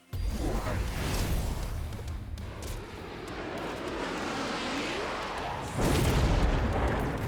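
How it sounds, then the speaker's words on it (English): Missile blasts in the strategy game Mechabellum roar as a dense, continuous wall of rumbling explosions, with a sharper, louder burst near the end, with no talk over it. "he throws a missile at me"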